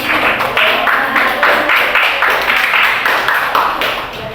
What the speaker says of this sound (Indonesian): tepuk tangan dulu untuk Mary